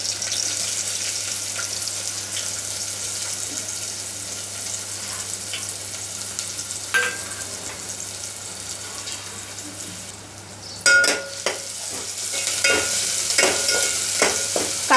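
Onion frying with garlic and curry leaves for a Malvani fish curry gives a low, steady sizzle with occasional stirring scrapes, then a louder clatter and brighter hiss near the end.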